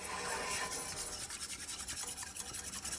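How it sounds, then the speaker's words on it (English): A whisk stirs cornstarch into a beef rouladen sauce in a pan, giving a steady, close, wet scraping and swishing in quick repeated strokes for a few seconds, with no talking. "we will just start whisking that in"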